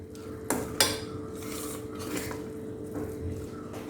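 Cooked pongal is stirred in a pressure cooker, with a couple of sharp metallic scrapes and knocks early on, then soft repeated mixing sounds close by and no talking.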